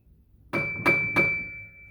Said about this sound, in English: it would make this vibration sound.